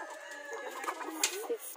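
Rhode Island Red free-range hens cluck and murmur close by in short, uneven bursts, with a few louder squawks toward the end and a faint voice in the background.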